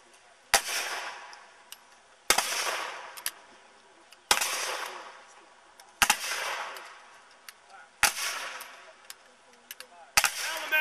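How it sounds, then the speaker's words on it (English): Infantry muskets fired by file at a Gettysburg Army of Northern Virginia reenactment: six loud, sharp reports spaced roughly two seconds apart, each trailing off in a long rolling echo. "they're going to show you another fire by file to cause that effect"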